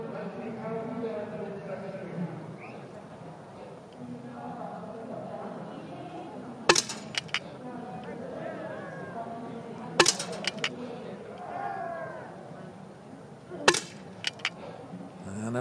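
Sharp rifle shots at a para biathlon shooting range in Beijing, three sharp clusters of cracks and clicks spaced a few seconds apart, under continuous commentary from a sports announcer.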